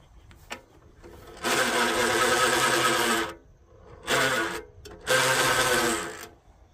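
An old hand-cranked forge blower whirs in three rough bursts with short pauses between, a dry grinding rasp at close range that sounds in need of lubrication.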